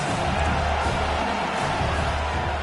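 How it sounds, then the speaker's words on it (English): A football stadium crowd roars steadily behind the defense on a big third down in the red zone, a dense, sustained wall of cheering with no clear individual voices. "this crowd is getting behind this defense"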